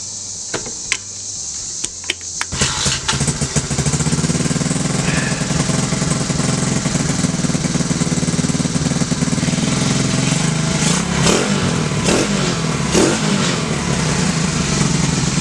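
A repaired TAO pit bike engine, previously seized, starts with a few sputters and then runs steadily and loudly, with a rough, buzzing note and occasional revs, close up with no talk.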